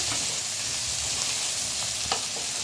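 Dense, even hiss of eggplant frying in a pan, close and constant, with a faint tap near the end.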